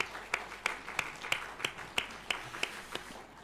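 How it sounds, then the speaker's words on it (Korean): At a church afternoon service honouring the choir, the congregation claps in a steady, evenly spaced rhythm, about three claps a second, fairly soft and distant over a low room murmur. "우리 들어가실 때 우리 박수로 축복하시겠습니다"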